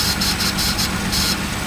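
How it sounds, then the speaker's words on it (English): Engine running on a 1962 Plymouth Valiant, with the alternator adding a harsh, pulsing whine and rattle over the steady drone, close and loud. "that alternator makes some weird sounds"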